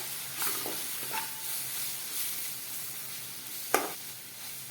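Homemade Maggi-style noodles are stirred in a hot pan with Maggi masala and a spoonful of tomato sauce: a steady sizzling hiss with a few brief spatula scrapes, close and fairly loud.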